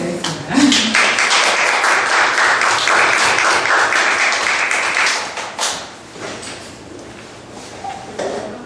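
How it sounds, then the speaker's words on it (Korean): A small audience claps to welcome a mentor at a talk event. The applause is dense and moderately loud for about five seconds, then tapers to scattered claps with some voices. "오늘 시간을 내주신 정원희 멘토님을 박수로 맞이하겠습니다."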